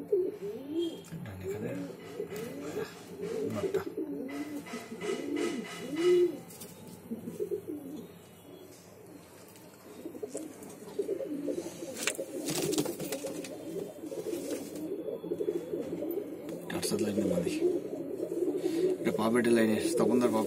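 Pulser breed pigeons coo in a steady, overlapping stream of low throaty rolls, close by and fairly loud, with a brief lull partway through before the cooing builds again.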